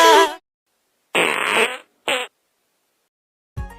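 A fart sound effect: three loud, separate bursts with short silent gaps, the middle one longest and the third brief, then a different noise starts at the very end.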